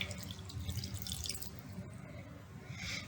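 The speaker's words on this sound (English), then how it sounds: "And then we're going to dump in 3/4 of a cup of water" Water poured from a measuring cup into a mixing bowl for salt dough, a close, steady splashing trickle with brief drips, lasting a few seconds with no talking.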